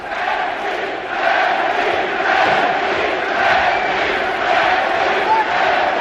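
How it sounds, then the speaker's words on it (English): A sellout boxing crowd roars and cheers continuously inside the Frankfurt Festhalle in Germany, backing their home world champion during a title fight; the dense, loud wash of voices swells in waves without a break. "The sellout crowd at the Festhalle in Frankfurt, Germany, getting behind their world champion"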